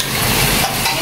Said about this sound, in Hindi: प्याज हम इसमें डाल दी